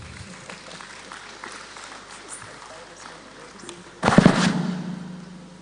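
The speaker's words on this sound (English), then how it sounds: "Ladies and gentlemen, a round of applause." A conference audience starts clapping after a panel, a sudden burst of applause arriving near the end after a quiet, murmuring room.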